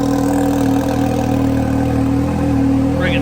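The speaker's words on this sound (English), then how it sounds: "Clutches are on. They're spinning true." Can-Am Maverick X3 side-by-side engine running steadily with freshly installed billet clutches spinning, a loud continuous idle drone with a faint high whine near the end.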